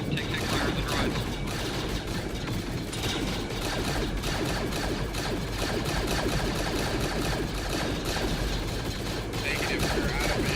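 Sustained rapid gunfire rattles continuously in an Arma 3 battle against droids, dense bursts of automatic fire layered with mechanical clatter, with voices faintly under the shooting.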